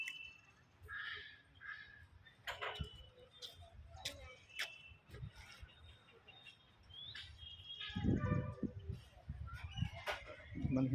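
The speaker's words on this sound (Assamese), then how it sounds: "চৰাই চিৰিকটিৰ মাতো শুনা গৈছে" Birds calling at a zoo during a school educational visit, scattered chirps and short calls near and far over light background activity, with faint voices.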